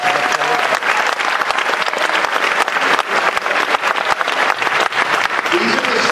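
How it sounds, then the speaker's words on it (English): An audience at a school band concert gives the band students a round of applause, the crisp, dense clapping loud and sustained throughout with a few scattered louder claps and faint voices mixed in. "So let's give them a round of applause."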